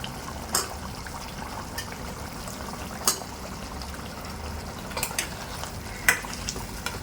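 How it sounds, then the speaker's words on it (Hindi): Masala frying in a pan for village-style chicken baingan, a continuous close sizzle and crackle with a few sharp spoon scrapes and clicks breaking through, no talking. "देखिए माशाल्लाह मसाले की भुनाई हो रही है।"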